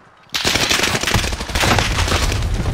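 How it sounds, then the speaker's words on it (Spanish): Video game gunfire: after a brief quiet moment, a sudden loud burst of rapid automatic shots erupts and continues as a dense, sustained rattle of fire, close and harsh, with no speech over it. "¡Mierda, me disparan!"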